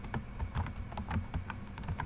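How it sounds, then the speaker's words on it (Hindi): Fingers type on a computer keyboard while entering an invoice in Excel, a quick, uneven run of clicking keystrokes at close range, with no voices. "तो मैंने कीबोर्ड टाइप कर दिया"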